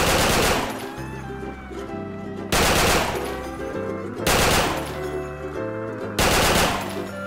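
A video game gun fired from the hip in four loud, sharp bursts spaced about two seconds apart, each burst followed by a ringing, musical tail, with no talking.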